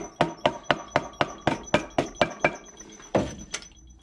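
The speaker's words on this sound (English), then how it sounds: "A little tap with the mallet." Rubber mallet tapping clutch parts into place on a Classic Mini, a quick evenly spaced run of about ten sharp close knocks with a faint ringing tone, then a pause and two final taps.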